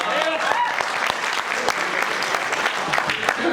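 Loud, continuous audience applause at a Hindi poetry recital (kavi sammelan), dense clapping with crowd murmur and a voice speaking over it.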